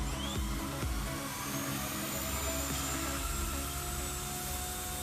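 A small Eflite Blade 130x RC helicopter flies with a constant high-pitched whine from its rotors and motor, steady and moderately close, with no voices.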